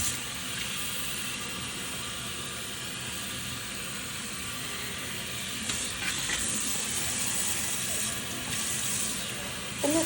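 Continuous hissing spray of running hot tap water splashing into a kitchen sink, steady and close, with a few faint clinks near the end.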